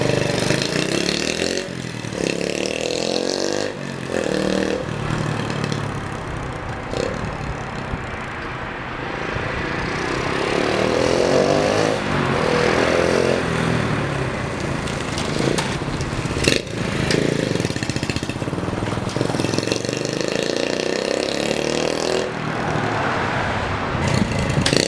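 A Honda CT70 minibike engine runs loudly nearby with a steady, rattly small-displacement putter, rising and falling slightly in revs throughout, with a few brief clunks over the continuous drone.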